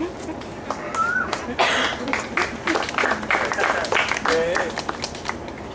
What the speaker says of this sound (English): That was marginally happy applause.